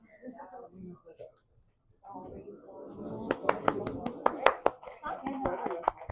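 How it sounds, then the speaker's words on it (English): A few people give quiet golf claps in a radiography class practising chest and abdomen imaging, sharp sparse claps following soft talk, spaced irregularly and close by. "Golf claps all around."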